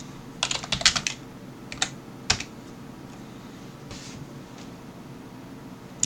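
Short bursts of clicky keystrokes on a computer keyboard while entering a terminal command, a quick cluster of taps followed by a few isolated presses and a near-silent pause.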